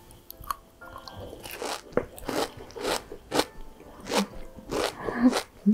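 Dubai chocolate, a chocolate bar filled with kadaif pastry, is bitten and chewed close to the mic, giving a run of crisp crunches and wet chewing sounds spaced out over several seconds.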